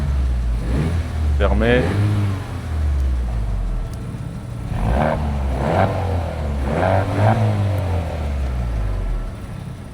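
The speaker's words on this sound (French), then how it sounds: "mets-nous un petit coup de gaz ou deux" A Porsche Cayenne R36 with a five-cylinder engine revs up twice, each rising roar loud and close. Someone talks briefly between the blips of throttle, and the engine idles steadily in between.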